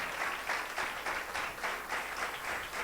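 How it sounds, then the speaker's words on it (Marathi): A church congregation claps steadily for the mothers at a Mother's Day service, a dense, continuous wash of many hands that swells and dips slightly throughout. "टाळ्या वाजवा त्यांच्यासाठी, या सगळ्या मातांसाठी टाळ्या वाजवा."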